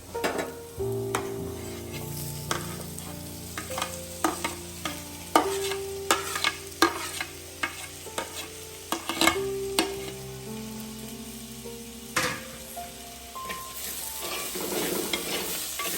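Chopped tomatoes and two green chillies frying in a pan for pepper chicken, a low steady sizzle punctuated by sharp, irregular clacks and scrapes of a spoon stirring against the pan.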